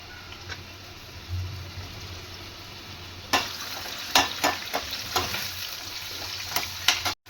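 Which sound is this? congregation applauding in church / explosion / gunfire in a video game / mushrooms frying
mushrooms frying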